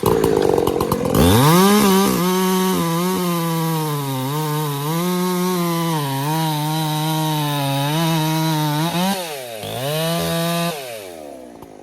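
A chainsaw revs and bites steadily through firewood for several seconds, loud and close, its engine pitch dipping and rising under load before easing off.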